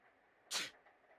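A single sharp, breathy sneeze from a character in the video game Persona 4 Golden bursts out over a quiet background hum, brief and close.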